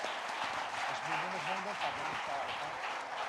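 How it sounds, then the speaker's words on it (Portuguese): A church congregation applauding during a celebration service, steady moderate clapping with voices and some sung or called-out tones underneath. "e vamos aplaudir Jesus."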